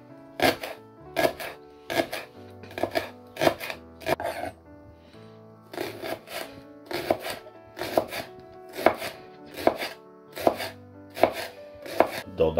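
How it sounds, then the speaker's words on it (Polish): A knife cuts food into thin strips on a board in quick bursts of crisp chops, several strokes per burst separated by short pauses, close and clear. "Kroimy w cieniutkie paseczki."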